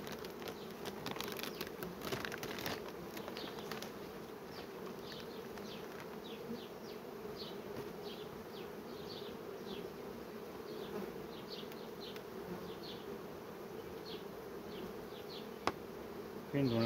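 Honeybee colony buzzing steadily at the hive as foragers bring in nectar from a nearby sunflower field, a dense continuous drone with individual bees zipping past close by, no voices.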